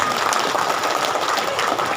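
Steady applause from a crowd at a road inauguration ceremony for a village road in Banyuasin, loud and continuous with dense overlapping claps throughout.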